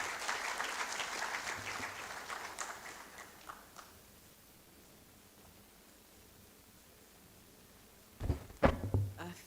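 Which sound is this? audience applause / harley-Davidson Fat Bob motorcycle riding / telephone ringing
audience applause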